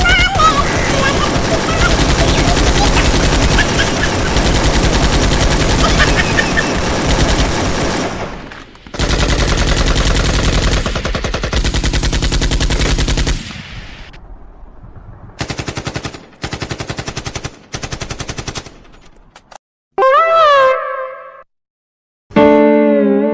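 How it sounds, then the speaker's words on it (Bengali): Sustained bursts of loud machine-gun fire from a comedy police sketch, long continuous volleys broken by short gaps, followed by scattered shorter bursts and a few electronic tones near the end. "নাহলে আমি গুলি চালাতে বাধ্য হবো"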